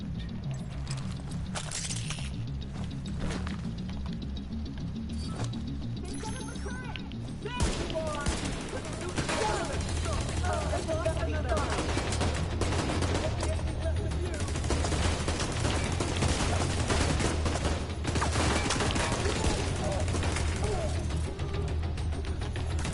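Incendiary rounds fire in bursts in The Division 2, with rapid cracks and rattling volleys over a busy game soundscape; voices come through at times.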